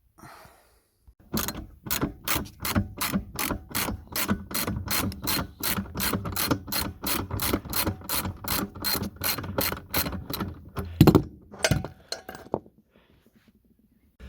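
Rapid ratchet clicking in steady bursts as seat bolts are wrenched out inside a Ford Econoline E350 Coachmen RV, loud and close, with a sharp metallic clank near the end before it falls quiet.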